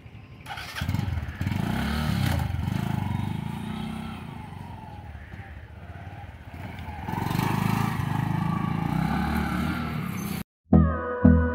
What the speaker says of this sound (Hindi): अभी बाइक पे जा रहे हैं हम दोनों लोग, देख सकते हो